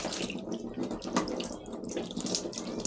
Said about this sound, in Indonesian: Kemudian kita akan menyalakan keran